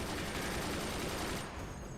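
Rapid machine gun fire rattles in a dense, steady burst during a video game battle, loud and close, with the firing easing slightly near the end.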